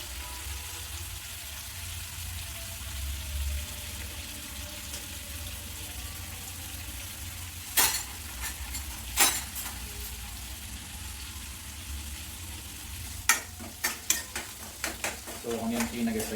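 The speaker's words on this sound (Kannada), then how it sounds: "ಸೊ ಆನಿಯನ್ ಕ್ಲೀನಾಗಿ ಫ್ರೈ ಆಗಲಿ" Onions sizzle and fry steadily in hot tempering oil for a tomato curry, a continuous crackling hiss broken by a few louder stirring scrapes against the pan, with no talking.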